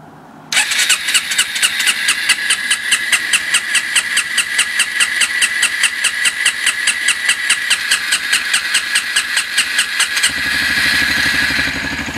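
A Sachs X-Road 125 motorbike that has sat unused for weeks cranks on its electric starter with a long, loud, rhythmic whirring for about ten seconds, then catches and settles into a steady close idle.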